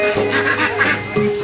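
Ducks at a local market in Roing, Arunachal Pradesh, give a few loud, nasal quacks and honks in quick succession, close by over market background.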